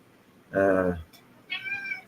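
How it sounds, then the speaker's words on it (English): A Siamese cat gives a loud, drawn-out, raspy meow up close, then a higher, thinner second meow after a short pause. "You have such a freaking Siamese meow."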